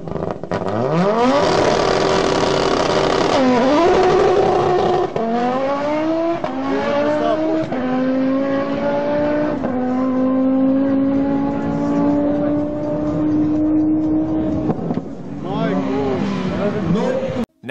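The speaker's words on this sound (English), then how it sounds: "Take a listen to this beautiful Audi S1." Audi S1 rally car engine racing loudly, revs climbing and falling through repeated gear changes as it passes close, with talk over the engine noise.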